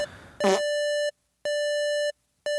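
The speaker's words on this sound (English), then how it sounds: "this is a dial tone after somebody's hung up" Telephone tone heard after a call has been hung up, a loud steady electronic tone in evenly spaced on-off pulses, each about half a second long, preceded by a brief click.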